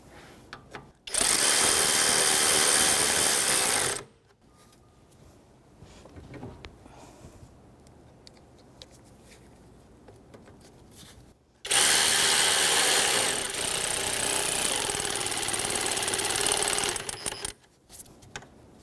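A power drill fitted with a 10mm socket drives self-tapping screws during power steering line work on a 2005–2021 Nissan Frontier pickup, running in two sustained loud bursts of about three and six seconds with quieter handling noise between them.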